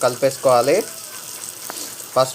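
Spices and turmeric frying in a pan give off a steady, soft sizzling hiss, with a voice speaking briefly at the start and again near the end.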